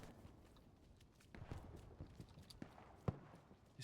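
Footsteps in the video game Hell Let Loose on the Carentan map thud and scuff in an uneven walking rhythm, with one sharper knock near the end, faint under a low steady background wash.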